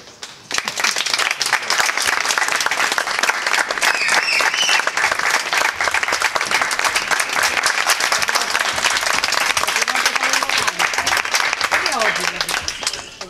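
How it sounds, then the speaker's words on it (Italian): Sustained applause from a crowd at a street arts festival in Tortona, dense clapping and some cheering that holds loud and steady for the whole stretch. "quindi magari io li farei un applauso."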